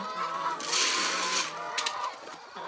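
Backyard chickens clucking, a busy mix of overlapping clucks and squawks nearby with no talk.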